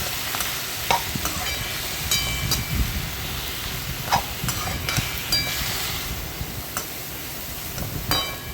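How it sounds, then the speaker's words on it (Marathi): Green peas and carrots fry in a pan for a hara bhara kabab, giving a dense continuous sizzle with occasional stirring scrapes and small ticks, close and fairly loud with no talking. "मटर घातलं मी, गाजर घातलं. 4-5 मिनिटं याला फ्राय करून घ्यायचं."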